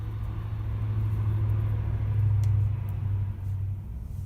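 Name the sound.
train rumbling in the background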